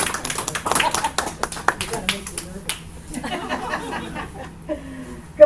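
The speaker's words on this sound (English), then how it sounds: "give her a round of applause for all she's been doing" A congregation gives a short, scattered round of applause at a Sunday church service, with uneven claps thinning out over a few seconds and a voice briefly heard near the end.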